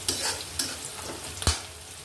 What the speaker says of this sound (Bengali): আমি তো ভেজে নেব তেলের সঙ্গে মশলাটা।